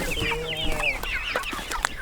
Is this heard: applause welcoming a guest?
no